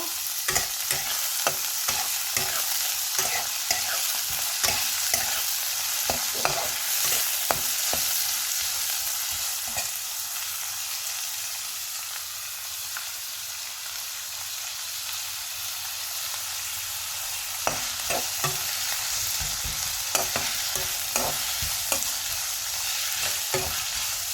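Carrots and other vegetables lightly frying in a pan, a continuous bright sizzle with frequent clicks and scrapes of stirring throughout, close up and unbroken by speech.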